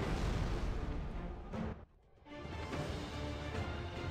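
Particle accelerator weapon fired in MapleStory: a dense, loud burst of booming game effects that briefly drops out near the middle, then swells back into a sustained roar.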